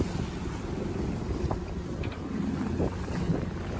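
Sailboat, a Wilderness 30 singlehanded on the open Pacific between Hawaii and California, motoring straight into an unforecast gentle headwind: steady engine drone with continuous wind and water rush, close and even, no talking.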